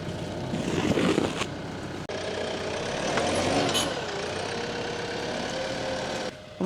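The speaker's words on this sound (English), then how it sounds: "get the tractor warming up" A farm tractor idles while warming up in cold weather, a steady low mechanical rumble close by that runs throughout with little change and no talking.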